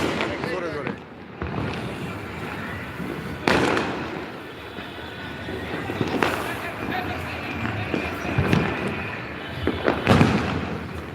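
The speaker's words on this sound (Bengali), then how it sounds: "এবং উপরে এক একটা আতসবাজি বিশাল" Large fireworks burst overhead in a series of loud booms and crackles spread through the stretch, with a crowd talking underneath.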